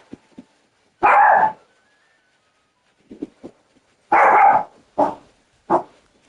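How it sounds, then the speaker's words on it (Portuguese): A small dog barks in sharp, loud, close bursts: two long yaps and several shorter ones spaced across a few seconds, with quiet whimpery sounds between them and no talking. "Olha o meu cachorrinho achando que é gato."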